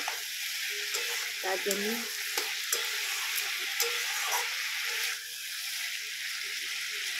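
Potatoes fry in a pan with a steady, soft sizzle and crackle throughout, with a few faint clinks and brief quiet talk over it.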